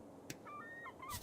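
A seagull in the video game Esoteric Ebb gives a few short, high calls with wavering tones over a low game background, one brief sharp sound before and another burst at the end.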